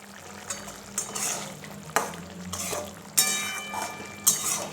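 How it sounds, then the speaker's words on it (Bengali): Chicken for chicken chana masala cooks in a pot while a spoon stirs it, a bubbling simmer with several sharp scraping knocks against the metal. "আর এখানে চিকেনটা এখনও সেদ্ধ হচ্ছে, আর ভালোভাবে একটু নাড়িয়ে দেব।"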